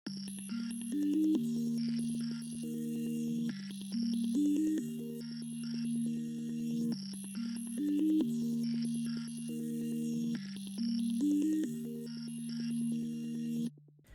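Serum synth patch Key Freeze from Maury's Shock Sound Kit Volume 2, a looping pattern of bell-like pluck notes over a sustained tone with bright airy shimmer on top, repeating steadily and somewhat quiet.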